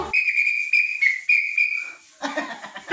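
A whistle blown in a series of sustained shrill blasts with short breaks, loud and close, followed by a burst of chatter and voices.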